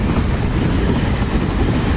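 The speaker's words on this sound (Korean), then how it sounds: "기차 지나간다" A train rolls past along a riverside walking trail in Yangsan, a steady broadband rumble of wheels and cars holding loud and close throughout with no voices.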